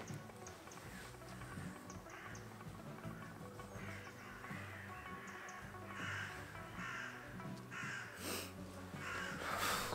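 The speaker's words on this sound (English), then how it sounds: "Bloody crows now, what's wrong with the place?" Crows caw in an outdoor setting, a string of harsh calls spread across the stretch over steady background noise, with a louder burst near the end.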